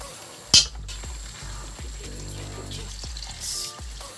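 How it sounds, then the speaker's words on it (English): Masala being stirred in a pan for rajma chawal, heard as repeated scraping and clinking strokes against the pan over a soft sizzle, with one sharp metallic clank near the start. "Mix masala."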